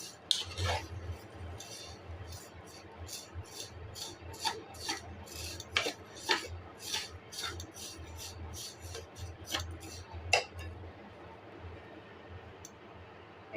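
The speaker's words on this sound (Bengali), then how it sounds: "আমি সেমাইটা এখন ভেজে নিব" Vermicelli (semai) fried brown in a pan, heard mostly as quiet, rhythmic scraping and clicking of a spatula stirring against the metal, repeating steadily over a low background hum.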